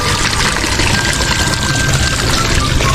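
Water pumped and pouring at a chicken farm in the Philippines during the dry season, a continuous loud rushing gush with a steady splashing stream and no pauses.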